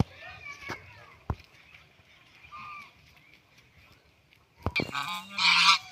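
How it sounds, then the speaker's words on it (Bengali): King ducks from an old breeding pair, one female and one male, let out loud, close honks in a burst near the end, following a quieter stretch with scattered knocks and faint voices. "এই যে এইগুলা হলো আমার আগের পুরান হাঁসগুলো। এই পাশেরটা হলো মেয়ে হাঁস আর ওই পাশেরটা পুরুষ হাঁস।"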